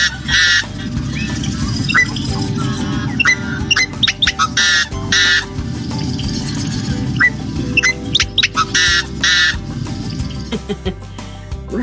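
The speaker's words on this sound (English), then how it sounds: "Yellow-headed blackbirds also have a pretty boisterous call." Yellow-headed blackbirds calling loudly and boisterously outdoors, with repeated harsh, squawking and squeaky bursts over a steady background din, close and continuous.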